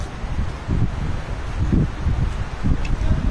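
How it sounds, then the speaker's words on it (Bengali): Seaside wind on an island buffets the microphone in low, rumbling gusts that rise and fall every second or so, loud and close, with no talking. "আর দারুণ হাওয়া বইছে এখানে"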